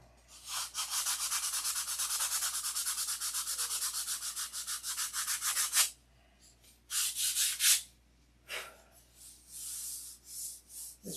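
Close hand sanding of doped wood on a refurbished flap: rapid, steady back-and-forth rasping strokes run for about five seconds, then stop and return as shorter scattered bursts between brief pauses, with no voices.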